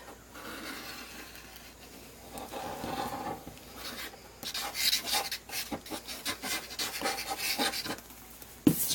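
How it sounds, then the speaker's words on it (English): Scraping and rubbing on a Halloween decoration being glued, irregular close scratchy strokes that grow busier and louder toward the end, with no talking. "Sorry about the scraping."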